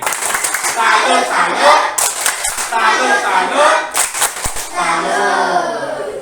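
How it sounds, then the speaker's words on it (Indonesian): A class of children performing a rhythmic 'salut' clap, sharp unison claps in short bursts between chanted voices and talking, close and loud in a classroom. "Ya, kalian berikan tepuk salut ya"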